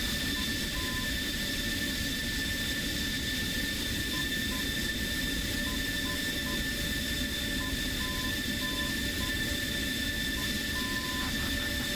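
F-16 Falcon fighter jet taxiing back from the runway toward Ramstein, a steady, loud engine whine and roar holding unbroken throughout, with faint intermittent radio beeps.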